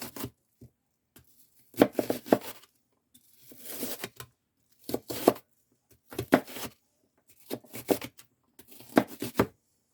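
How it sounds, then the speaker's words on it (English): A knife chops through a large onion on a board in a home kitchen, sharp close cuts falling in quick bursts of several strokes separated by short pauses, with no one talking. "I'll chop this onion."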